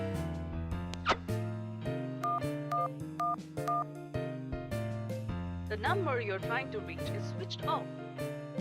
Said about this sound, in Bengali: একবার ফোন করে দেখি